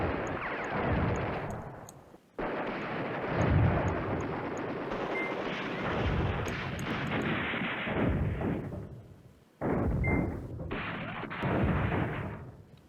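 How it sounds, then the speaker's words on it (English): Artillery barrages in the WWII strategy game Command Ops 2, dense rumbling booms and crackling blasts rolling almost continuously, broken by brief gaps near 2 and 9.5 seconds. "He's got some artillery going on there"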